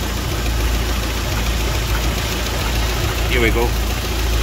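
A car engine drones steadily and fairly loud throughout, a constant low rumble with a short spoken phrase near the end.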